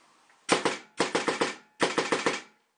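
Homemade paintball gun firing in fast bursts: three loud, close volleys of about two, four and four sharp shots each, separated by short pauses, with no other sound between them.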